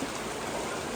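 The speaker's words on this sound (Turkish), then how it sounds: "Şöyle güzel nehir akıyor" Steady rushing water fills the clip, a continuous broadband flow of a river running nearby in Treviso, Italy, near a water mill and a small dam.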